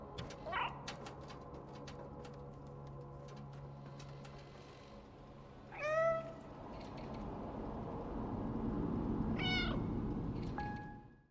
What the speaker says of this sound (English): So the camera will nod in agreement to the meows.